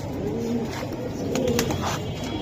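A silver pigeon coos in repeated soft, low throaty bursts, close by, over a steady background hum with no talk.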